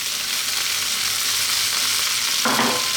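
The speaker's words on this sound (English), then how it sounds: "What's important is to actually fry your rice." Cold basmati rice fries in a hot pan for chicken fried rice. A loud, dense, continuous sizzle fills the clip, and a brief scrape or stir comes near the end, with no talking.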